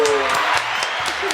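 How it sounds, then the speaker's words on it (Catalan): A studio audience applauds briefly at a Catalan comedy show, a short burst of dense clapping with a voice speaking over it. "Ja l'aplaudiment."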